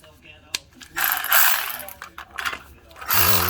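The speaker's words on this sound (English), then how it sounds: "let's go in with the 12-point and make sure our wrench is righty tight" A 12-point socket on a ratchet wrench working Subaru WRX front brake caliper bolts, giving quick clicking ratchet bursts close to the mic, with brief gaps and knocks between strokes.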